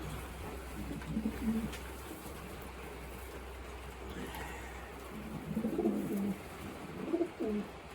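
Racing pigeons coo in a loft, soft repeated throaty calls from several birds close by over a low steady background hum.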